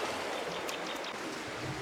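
A river flowing in Africa where people wash their faces and drink: a soft, continuous watery rush with faint splashes and trickles, fairly quiet and steady, with no talking.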